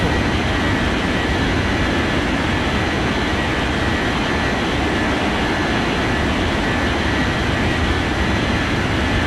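In an air traffic control video game, an airplane takes off with a steady, loud, broadband engine roar that stays constant throughout, with no talking.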